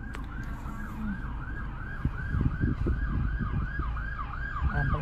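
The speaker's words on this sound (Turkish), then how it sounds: "Ambulans geliyor." An ambulance siren wails in a steady repeating rise and fall, fairly distant, over low road rumble and passing traffic.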